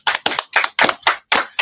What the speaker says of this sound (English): Let's give a live hand clap for Mr.